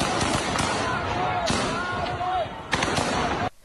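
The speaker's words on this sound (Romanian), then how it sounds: "Soldații ruși au tras în repetate rânduri focuri de armă în aer pentru a-i speria pe protestatari" Gunshots fired into the air by Russian soldiers to scare protesters in an occupied Ukrainian city; loud, sharp reports ring out amid dense crowd noise and shouting, with bursts near the start, middle and end.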